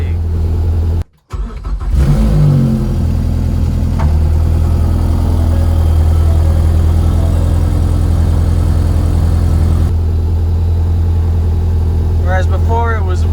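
A Ford Focus ST with a big turbo, its exhaust leak repaired, cranks and catches after a short pause, then settles into a loud, steady, low idle hum that stays close and even, with a few faint chirps near the end.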